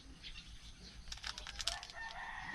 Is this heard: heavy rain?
no